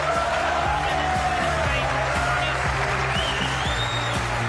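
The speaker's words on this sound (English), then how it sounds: "And there's the reaction from this crowd, loving what they're watching." Crowd at a World Masters of Snooker quarter-final in Riyadh applauding and cheering steadily after a black is potted, a dense sustained clapping wash with scattered whoops, with a faint commentator voice underneath.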